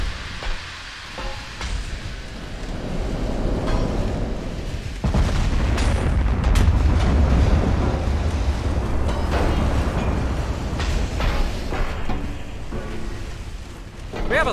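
Deep, rumbling salvos of 17-inch battleship guns in the naval warfare game Ultimate Admiral Dreadnoughts, heavy booms rolling into a sustained low roar over a steady background of sea and engine noise.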